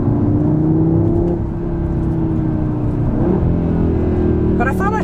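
A 2022 Audi RS3 accelerates from inside the cabin, its induction whir and exhaust note rising in pitch over a steady engine drone, with a short bit of talking near the end.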